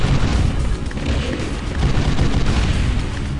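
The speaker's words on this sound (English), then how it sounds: "Now across there, I'll use this shotgun." Shotgun blasts and booming gunfire from a Quake 1 mod video game fill the whole stretch, a dense, loud, continuous barrage of explosive noise.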